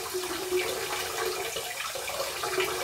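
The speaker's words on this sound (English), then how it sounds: "Get in there some hot water." Hot tap water runs steadily into a bathroom sink for a razor before shaving, a continuous moderate splashing stream with no voices.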